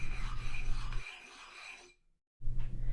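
A whetstone is rubbed back and forth to flatten its surface, a steady close scraping rasp that stops abruptly, leaves a short silence, then starts again.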